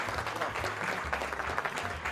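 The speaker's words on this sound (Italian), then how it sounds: "ovviamente merita l'applauso della sala" Audience in a restaurant hall clapping for a chef at a cooking competition, a brief moderate burst of applause mixed with some voices.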